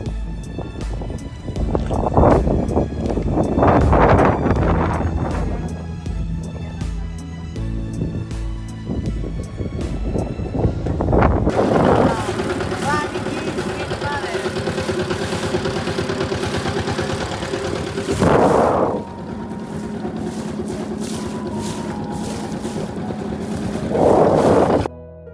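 A mid-pitched boat engine idles and chugs on the Titas river, steady and fairly close, with buffeting wind noise on the microphone and a few louder gusts.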